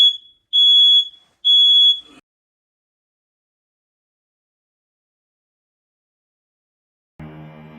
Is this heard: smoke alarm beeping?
yes